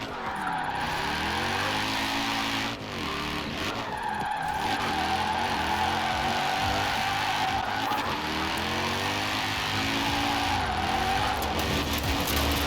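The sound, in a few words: Mercedes 280 SL engine drifting in video game Forza Horizon 4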